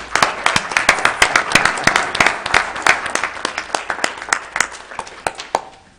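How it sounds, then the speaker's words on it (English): A county commission meeting room applauds Jackie, recipient of a Hall of Fame award, with crisp, distinct claps from a modest group, loud at first and thinning out toward the end over about six seconds. "I think we should now follow this with applause."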